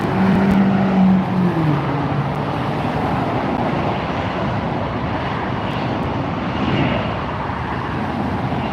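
An Alaska Airlines jet passes close by near the runway at LAX, a steady loud roar of engine noise that swells slightly and sustains throughout without any voices.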